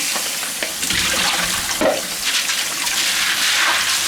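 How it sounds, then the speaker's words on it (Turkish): Dried red kidney beans being rinsed under a running tap in a village kitchen, with a steady broadband rush of water and splashing that continues close and fairly loud throughout, without talk. "Barbunyamı güzelce yıkıyorum."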